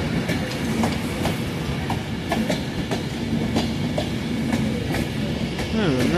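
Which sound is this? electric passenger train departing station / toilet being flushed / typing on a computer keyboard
electric passenger train departing station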